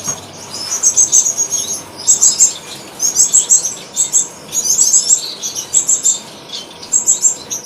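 Finches, including Bengalese finches, in an aviary cage, giving repeated short bursts of high chirps in a quick, uneven rhythm, close and fairly loud against a quiet background.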